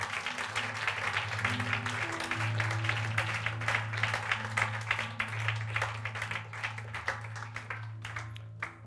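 A church congregation applauds together through a Sunday service, dense steady clapping from a crowd with some cheering voices mixed in, loud and sustained over music in the background.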